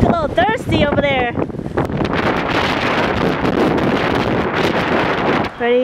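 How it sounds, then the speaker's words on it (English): Strong wind in Iceland roars and buffets the microphone steadily, with brief voices at the start and end. "Super windy."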